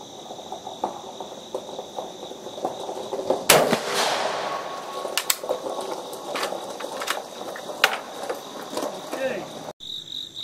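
A single sharp report from an M91 cavalry carbine rifle fired outdoors, sounding once against a steady chorus of crickets, with a few fainter pops afterward.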